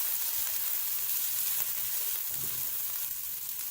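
Green chili, garlic and ginger fry in hot oil for an eggplant curry, a dense, even, loud sizzle that spatters and hisses continuously up close.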